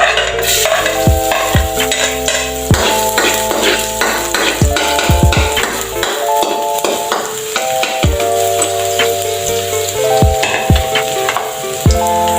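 Garlic sizzling in a little cooking oil in a pan for a squid dish, a steady loud frying hiss throughout with repeated stirring scrapes and clinks over a faint musical backing.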